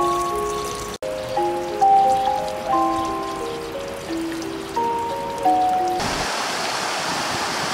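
A river rushes and splashes steadily beside a hot spring town in Nasushiobara, Tochigi, with bright tonal notes drifting over it, then the flow swells into a fuller, louder wash.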